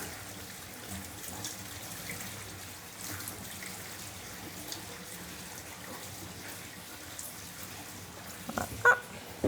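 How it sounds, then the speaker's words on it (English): Water and a floated archaeological sample are poured carefully from a flotation bucket into a sieve. A faint, steady trickle runs throughout, with a few brief, louder splashes near the end. "I'm just going to pour it very carefully so the stuff that's floated at the top just goes straight in"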